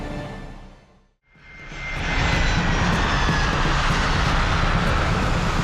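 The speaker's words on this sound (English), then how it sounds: "Our plane lands safely." A passenger jet airliner lands, its engine roar dropping away briefly and then surging back as a loud, sustained broadband rush that holds steady to the end.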